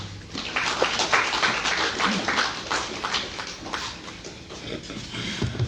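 Applause fills an official ceremony marking the handover of COVID-19 vaccines donated by the Government of Japan: steady, dense clapping from a crowd that carries loud and continuous throughout.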